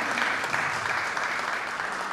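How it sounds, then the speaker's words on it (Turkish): Sustained audience applause at a gala evening plaque presentation, an even, continuous patter of many hands heard up close throughout, with no speech over it. "alkışlarınız Alparslan elinize gelsin."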